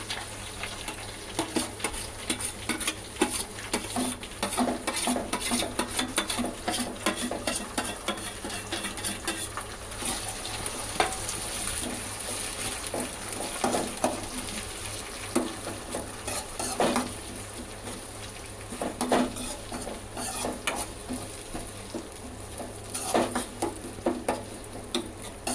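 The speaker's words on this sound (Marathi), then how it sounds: "पण आता टाकूया कढीपत्ता. त्यानंतर टाकूया आपण टोमॅटो" Curry leaves and tomato hitting onion frying in a pan for a lobster masala gravy, a constant sizzle with repeated spatula scrapes and clinks against the pan, close and without talking.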